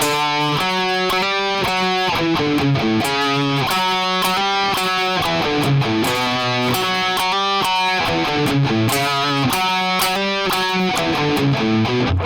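A distorted electric guitar plays the upper harmony part of a song in a sustained melodic line of steady, even notes, loud and up close, with no talking.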